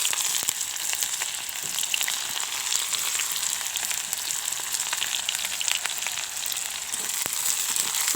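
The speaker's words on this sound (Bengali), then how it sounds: "পেঁয়াজটাকে লাল লাল করে ভেজে নেব।" Chopped onions fry in hot oil with nigella seeds and dried chilli, giving a loud, continuous sizzle with frequent sharp pops and crackles close by.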